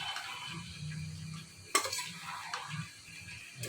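Cumin paste and spices sautéing in a pan, a steady soft sizzle with spoon scrapes and stirring knocks, one sharper clack near the middle.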